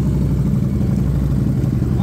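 Harley-Davidson Street Rod 750 motorcycle engine idling nearby, a steady low rumbling throb with light mechanical clatter, continuous and close.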